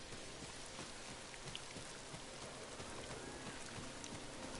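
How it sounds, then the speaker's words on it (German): Steady rain falling in the video game Ghost of Tsushima, a soft continuous hiss of drops pattering on surfaces with no voices over it. "Jetzt regnet's wieder."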